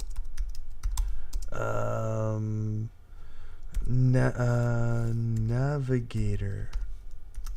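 Rapid clicks of typing on a computer keyboard come in short bursts, mixed with a voice and sustained tonal sounds that often sit over the keystrokes.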